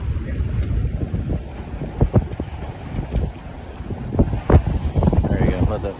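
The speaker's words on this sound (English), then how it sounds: "Oh, there's a good gust coming here." Wind gusts across a sailboat on the Choptank River, producing a steady rushing buffet with microphone wind noise and water wash, while people talk intermittently.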